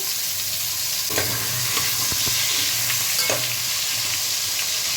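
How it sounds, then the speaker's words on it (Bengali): Potatoes frying in oil in a pan for a Bengali chicken aloo potol curry, a steady close hiss of sizzling with occasional scrapes of stirring, no voices. "আলুটা ভালো করে ফ্রাই করে নিতে হবে।"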